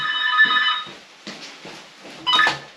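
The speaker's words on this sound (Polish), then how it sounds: "O, Emil dzwoni." A phone rings with an incoming call in a home, sounding in three separate bursts of a bright electronic ringtone with short quiet gaps between them, at moderate volume and with no talk over it.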